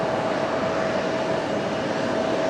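A Fuji Dream Airlines ATR 42 turboprop airliner at Fukuoka Airport, a steady broad engine roar with a faint constant tone, heard from a distance.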